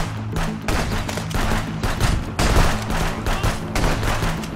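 Pistol gunfire in the Contraband Police video game, a rapid run of sharp shots in close bursts, loud and almost continuous, with brief pauses between volleys.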